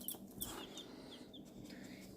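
Soft clucking and peeping from a small flock of chicks indoors in a house playroom, faint and continuous with a few brief louder chirps.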